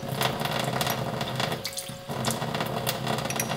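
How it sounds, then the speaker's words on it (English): A little water is poured into a shot glass while preparing sushi, a continuous splashing trickle close by that runs steadily for several seconds without speech. "I'm just going to add a little bit of water."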